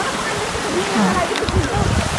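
River water flows steadily as a broadband wash on a mountain trail, heard close and continuous throughout, with voices talking faintly over it.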